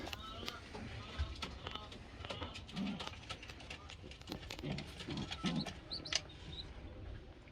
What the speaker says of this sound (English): You're a funny pigeon, I tell you.